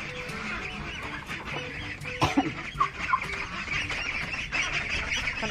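Peking ducks kept as pets, fed vegetables brought from the market, honk and quack in a noisy cluster, with several louder calls rising over a steady busy background of birds nearby.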